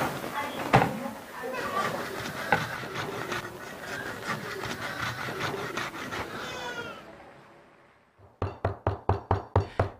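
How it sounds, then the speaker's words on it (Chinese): The back of a knife pounds Spanish mackerel flesh for dumpling filling, giving about seven evenly spaced, close, firm thuds on a board after a stretch of talking. "用刀背反复敲打鱼肉，使鱼内侧肌肉松散起绒"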